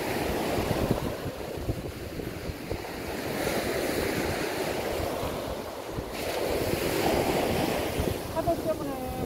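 Ocean waves surge and crash in broad swells, with wind buffeting the microphone throughout and no clear speech.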